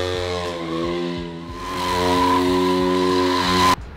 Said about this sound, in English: And the basic burnout, it's actually the first step before you do the rolling burnouts.